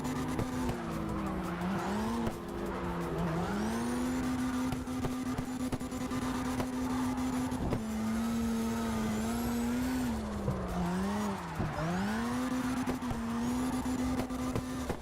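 A race car drifts in CarX Drift Racing Online 2, its engine droning steadily at high revs while tires squeal and skid in long sweeping slides, with the pitch dipping briefly at each transition, close and continuous.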